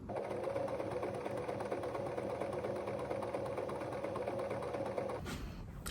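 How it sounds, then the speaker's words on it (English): A home sewing machine runs in a steady, continuous whirring stitch at close range for several seconds, then stops abruptly near the end. "I'm going to thread my sewing machine up and get started on the first step."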